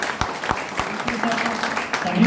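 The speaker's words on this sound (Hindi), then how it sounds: "एक बार अपने लिए ताली बजा लें।" An audience at a public talk gives a short round of scattered clapping, sharp individual claps standing out over a low murmur of voices.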